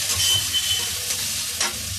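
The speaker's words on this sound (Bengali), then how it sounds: "এবার আমি টমেটো বাটাটা দিয়ে দিলাম।" Ground tomato paste fries in a pan, with a dense continuous sizzle and soft scraping stirring strokes recurring at a steady rhythm.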